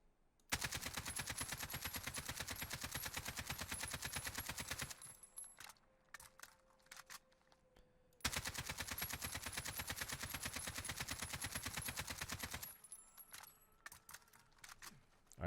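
AK-47 assault rifle firing full-auto in Warzone, two long sustained bursts of rapid, loud gunfire, each running several seconds, separated by a short pause with faint clicks and handling noises.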